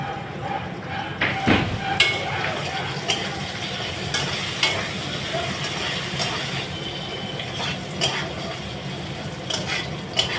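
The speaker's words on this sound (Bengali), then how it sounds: "আলুটাকে এবার গ্যাস বাড়ানো অবস্থায় ভাজবো" Potatoes fry over a high gas flame in a pan, giving a loud, steady sizzle close by. A spatula scrapes and knocks against the pan at irregular intervals throughout.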